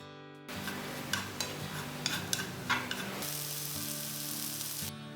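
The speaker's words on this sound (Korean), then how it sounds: "프라이팬에 기름 없이 두부와 양파를 먼저 볶아주세요." Tofu and onion stir-fried in a dry frying pan with no oil, a continuous soft sizzle with light scraping and clicks of stirring, over steady background music.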